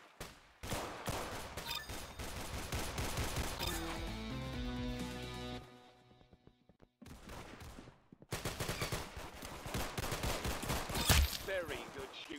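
Pistol gunfire in the Roblox game Arsenal, rapid crackling bursts of shots with a short lull, then more dense firing, under game music and effects.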